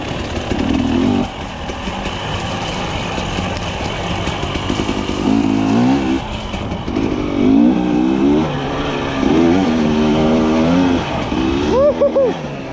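Husqvarna TE300i enduro motorcycle ridden along a leafy forest trail, its engine droning continuously up close with rising and falling revs as gears change, louder surges near the end.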